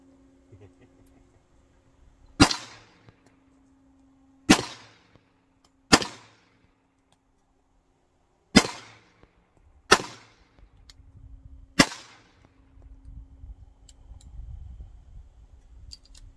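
An M&P 380 Auto pistol is fired at long range, with six sharp, separate shots spaced a second or two apart, each decaying with a short echo over quiet outdoor background.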